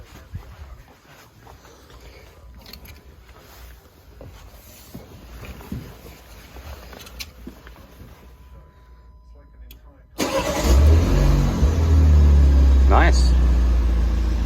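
A new 2021 Morgan Plus Four is started after quiet low-level sounds and brief talk, its engine catching abruptly and settling into a loud, steady, close idle with a short rev.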